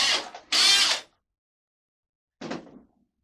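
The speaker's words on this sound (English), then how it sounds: "you've marked the hole, you're just going to drill straight through." A drill bores straight through plasterboard to make a hole for a wall fixing: two quick close bursts in the first second, silence, then one shorter, softer burst near the end.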